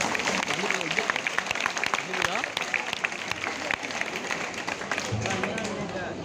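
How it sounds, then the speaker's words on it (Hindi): A crowd at an Independence Day gathering claps in honour of martyrs, a dense rattle of applause running throughout with voices mixed in beneath it. "तो पहले तो मैं चाहूंगा उन शहीदों के नाम पर एक जोरदार तालियां हो जाए।"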